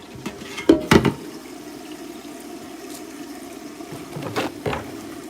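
Water runs and splashes as fat is rinsed down a kitchen sink drain, with a few louder gushes early on and again near the end over a steady low wash.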